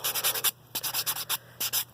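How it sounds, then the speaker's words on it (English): A sanding block rubbed briskly across fingernails during an at-home manicure, giving short bursts of gritty, hissing strokes in quick rhythmic groups with brief pauses between. "You can take a sanding block like this"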